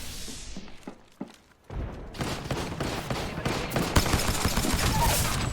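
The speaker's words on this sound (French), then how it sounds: "Grenade frag lancée." A frag grenade is thrown and bursts in the Apex Legends battle royale game, a sharp blast followed by a dense, continuing barrage of gunfire and impacts, loud and close after a brief quiet moment.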